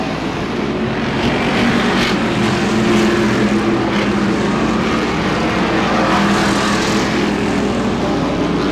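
Street stock race cars at Butler Motor Speedway roar around the track in a loud, continuous pack, engine drone swelling and fading as cars pass, with no voices.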